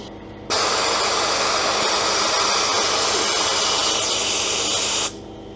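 An air dump valve on a lowboy trailer lets out a loud, steady rush of hissing compressed air that starts abruptly, holds for about four and a half seconds, then cuts off.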